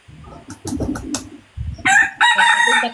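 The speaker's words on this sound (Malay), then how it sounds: "Diamlah ayam tu." A rooster crows loudly and close during an indoor livestream, its call rising over a few seconds after bursts of background chatter and noise.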